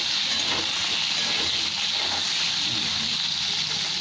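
Onions frying lightly in a pan give a steady, loud, broadband hiss and sizzle that holds unbroken from start to finish, with no voices over it.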